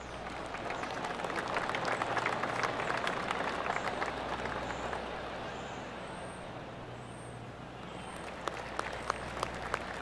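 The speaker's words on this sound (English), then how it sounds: "I can hear the golf claps around the course." Golf gallery applause in the video game PGA Tour 2K25: a broad, steady patter of crowd clapping spread around a course, moderately distant, with a few sharper isolated claps toward the end.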